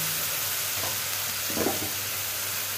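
Tomatoes and dry spices go into whole spices frying in hot oil for a yam curry, a loud continuous sizzle with a brief stirring clatter in the middle.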